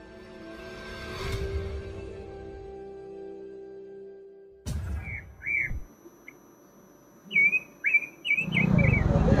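A ninja hummingbird songbird at an Indonesian bird market gives short bright chirps and whistled phrases in bursts after a quiet stretch and a sudden clunk, with background market noise.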